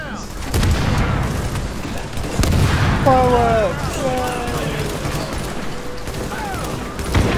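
Explosion and gunfire in The Division, Grand Central Station mission: loud booming blasts and rapid shots in a dense firefight, with someone talking over the noise.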